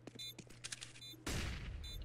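Video game shooter gunfire: several quick distant shots crackle early, then a louder burst of fire erupts close by.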